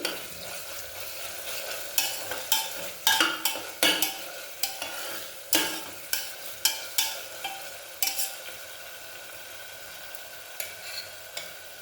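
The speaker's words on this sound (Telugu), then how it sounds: "ఇది మొత్తం పచ్చివాసన పోయే వరకు వేగించాలి" Ginger garlic paste fries in a pan with a soft, continuous sizzle, and a utensil scrapes and taps against the pan again and again in an irregular stirring rhythm, close and fairly quiet.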